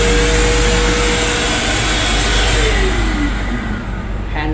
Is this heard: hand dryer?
yes